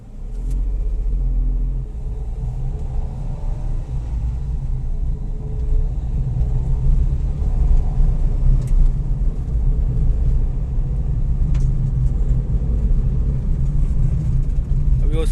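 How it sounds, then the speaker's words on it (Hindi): A car with an AMT transmission rumbles steadily while driving on a road, its low engine drone loud and continuous throughout, with someone talking over it. "गाड़ी चला रहा हूँ मैं अभी"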